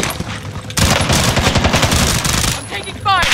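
Rapid automatic gunfire in the Call of Duty: Warzone battle royale game, loud dense bursts of shots rattling continuously for most of the stretch with a brief pause near the start and a fresh burst at the end.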